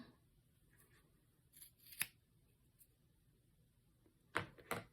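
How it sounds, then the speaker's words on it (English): Scissors snip through loops of embroidery floss while making a tassel bookmark: one crisp cut near the middle and a quick cluster of two or three snips at the end, close and clear in an otherwise quiet room. "you're going to put your scissors through the middle of those loops, cut them apart"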